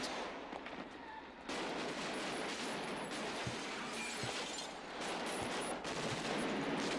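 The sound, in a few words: gunfire from a film playing on TV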